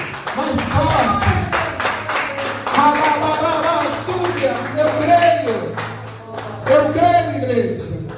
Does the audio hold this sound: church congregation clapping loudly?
yes